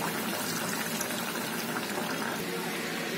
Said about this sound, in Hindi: चारों तरफ से अच्छी तरह बेसन को हम लगा देंगे और बड़ी सावधानी से तेल में हम डालेंगे